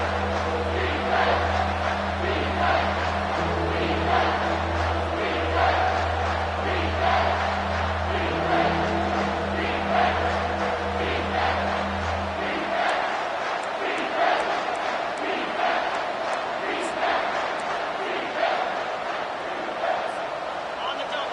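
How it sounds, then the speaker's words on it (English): Large football stadium crowd roaring and cheering in a big moment of the game, a dense sustained roar with a steady low hum that cuts out partway through; no clear talk over it. "This crowd knows they have to bring it in big moments"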